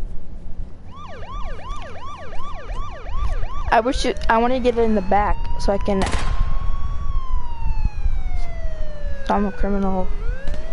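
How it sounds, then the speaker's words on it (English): A police car siren in a video game wails and yelps in rising and falling sweeps, loud and close, with players talking over it and sharp game sounds breaking in. "You know how to turn on the sirens?"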